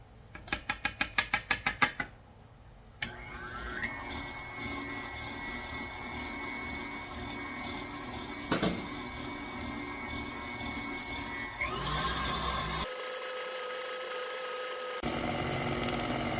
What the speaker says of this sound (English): I'm going to let it mix for a little bit longer